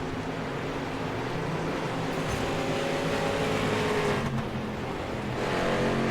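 Street stock race cars on an oval track, engines droning steadily as the pack circles, with a faint rise and fall as cars pass, at a moderate distance with no voices.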